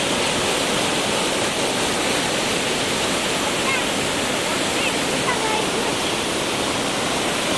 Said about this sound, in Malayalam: അത്ര ഡേഞ്ചറൊന്നുമില്ല കേട്ടോ, ചെറിയ വെള്ളച്ചാട്ടം.